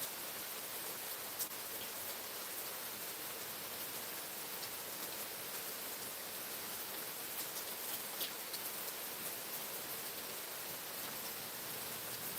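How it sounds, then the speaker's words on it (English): Steady rain falls on a Sunday morning, a soft, even hiss with occasional faint drips standing out, continuous throughout and with no voices. "Just sitting enjoying listening to rain fall?"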